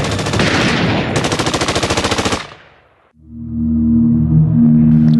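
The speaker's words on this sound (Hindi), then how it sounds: "सतवंत ने भी मशीन गन से गोलियां दागना शुरू कर दिया" Rapid bursts of machine-gun fire rattle loudly for a couple of seconds, then cut out, followed by a low droning hum.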